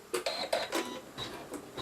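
A sewing machine stitching a quilt block gives a quick run of light mechanical clicks and taps, close and fairly quiet, with no talking.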